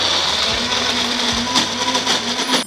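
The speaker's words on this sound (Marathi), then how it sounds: "आता पाण्याचा अजिबात वापर न करता मिक्सरमध्ये याची छान प्युरी तयार करून घेऊयात." A kitchen mixer grinder purees a thick spice paste with no water added, a steady loud motor whine running the whole time with slight shifts in pitch as the load changes.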